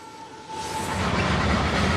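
A Canadian Pacific train passing near railroad tracks, a broad rumbling roar building louder and closer over two seconds, with a faint steady tone early on.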